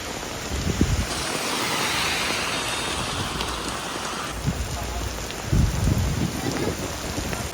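Heavy rain pours down in a dense, continuous roar, with a few low rumbling thumps rising through it.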